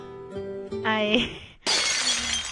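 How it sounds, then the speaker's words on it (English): Window glass shatters in The Royal Trap video game, a sudden bright crash that cuts off a short musical passage and rings on with scattered tinkling shards. "our conversation is interrupted by the sound of breaking glass"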